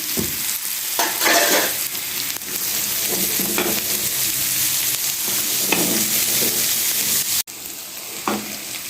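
Onions and chillies for masala bhindi sizzle and crackle in hot oil, a steady frying hiss with occasional stirring scrapes, close by and continuous.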